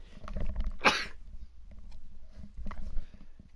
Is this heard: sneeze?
yes